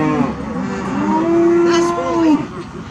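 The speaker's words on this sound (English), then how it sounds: "Bye, cow." A cow on a farm gives one long, loud, drawn-out moo, fairly close, with faint outdoor background noise around it.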